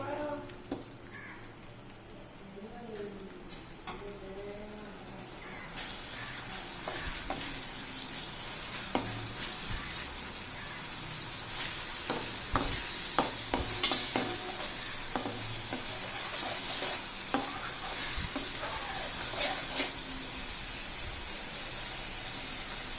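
Tomato masala sizzles steadily in a pan for egg masala curry while a spoon scrapes and stirs in irregular clinks and scrapes. The frying grows louder and denser partway through and stays close and continuous throughout.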